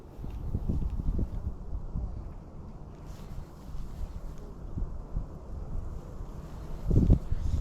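A steady, low wind rumble blows across the microphone outdoors while spring perch fishing, swelling slightly at moments with a few soft knocks.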